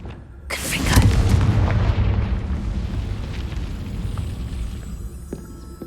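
Confringo fire spell explosion in Hogwarts Legacy: a single loud, deep boom bursts out, then rumbles and fades slowly, with no talking.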